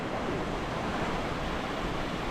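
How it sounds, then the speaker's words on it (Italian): Ocean surf on the church beach at Cumuruxatiba, Brazil, makes a continuous broad roar, steady and fairly close, with no voices over it. "Ah, l'oceano, che gioia."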